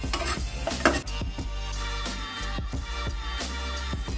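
Spices for a garlic-tomato chutney, red chilli powder, turmeric and coriander-cumin, sizzle in hot oil in a pan while a spoon stirs them with steady scraping strokes, close and alone with no voices.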